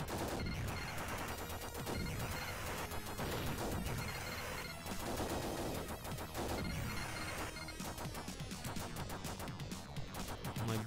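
Gunfire from Terminator 2 The Arcade Game on the Sega Genesis roars in dense, continuous rapid bursts mixed with crashing impacts, loud and unbroken for the whole stretch.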